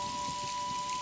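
Rain falls steadily and evenly in a village during a heavy downpour, a dense continuous patter with a faint steady tone running beneath it and no voices.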